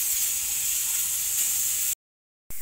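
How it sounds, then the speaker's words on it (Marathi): Pressure cooker cooking khichdi on a home stove, a steady hiss of escaping steam held for about two seconds, then a brief silence before the hiss returns. "आता कुकर लावलंय मी पण."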